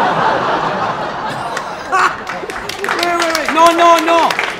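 Audience in a talk hall laughing and chuckling, then breaking into scattered clapping that builds, with a voice speaking over the noise near the end.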